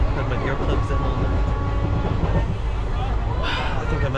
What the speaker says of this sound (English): It's so noisy on the train.